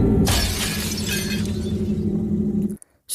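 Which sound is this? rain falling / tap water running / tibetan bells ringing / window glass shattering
window glass shattering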